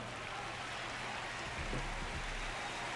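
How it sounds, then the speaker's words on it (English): Steady broadband rain hiss in MLB The Show, a baseball video game, continuous and even across the whole stretch with a faint low hum underneath and no voices. "It feels like we might be headed towards a rain delay if the weather doesn't ease up, Chris"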